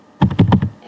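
Keys clatter on a computer keyboard as database values are typed in, a quick close run of about five crisp taps in under a second.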